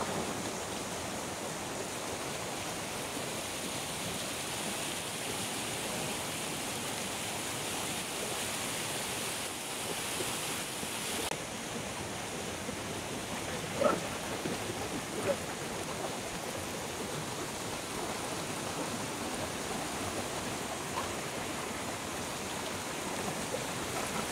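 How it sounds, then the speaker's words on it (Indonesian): A river flows steadily in an outdoor garden setting, giving a constant broadband rushing wash that stays even for the whole stretch with no clear voices above it. "Seperti ini aliran sungainya ini."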